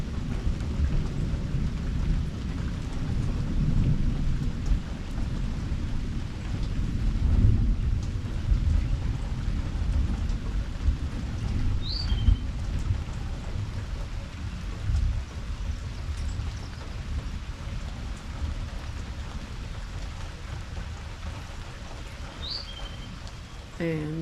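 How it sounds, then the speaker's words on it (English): A long, low rumble of thunder rolls on without a break from a lightning strike less than two miles away. Steady rain patters beneath it, and a few faint bird chirps come through. "this rumbling thunder lasts for"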